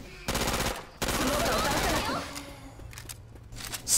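In the video game Left 4 Dead 2, Dead Center Christmas version, shotgun fire rings out in rapid loud bursts, booming close and mixed with other game sounds.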